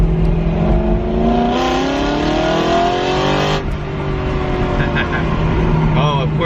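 A car engine on a mountain road eases off while crossing a bridge, its rising harmonic whine dropping in pitch, then builds again as it speeds up; close, loud and steady, with a voice briefly over it.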